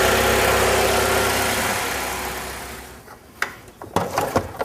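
A car engine idles steadily after a spark plug change, a smooth, even running hum that fades toward the end, followed by a few sharp clicks and knocks of work nearby.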